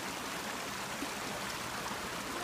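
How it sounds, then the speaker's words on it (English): An outdoor stream rushes steadily, a dense, continuous hiss of flowing water close by with no pauses and no voices. "Griffin, there's some nice deep water over here if you want to go for a deep swim"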